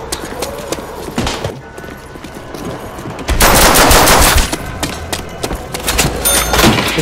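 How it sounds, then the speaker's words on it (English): Pistol fire in Call of Duty World at War zombies mode comes as repeated sharp loud shots in quick bursts, amid dense game noise with a heavy rumbling surge partway through. "I'm gonna shoot things with my pistol"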